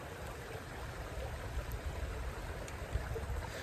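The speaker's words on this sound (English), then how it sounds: "it was pretty good to hear the water flow, hear the sound effects" Quiet, steady rush of stream water flowing, a soft continuous wash heard alone at low level.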